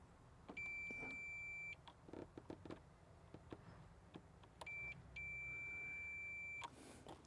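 A multimeter beeps while checking car fuses from a Subaru Crosstrek's maplight and dome light circuit, giving two long steady continuity tones, each around a second or more, with small clicks of probes between them.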